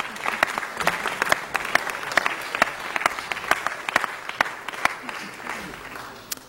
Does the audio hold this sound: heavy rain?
no